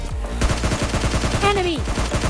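Rapid bursts of gunfire in a battle royale shooter game, a fast repeating rattle of shots running throughout, loud and close, with a brief sweeping electronic tone partway through.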